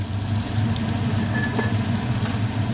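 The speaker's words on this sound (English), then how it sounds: "I'm going to saute the onions nicely" Onions sautéing in a pan for chicken liver masala, a steady soft sizzle running continuously and alone at moderate level.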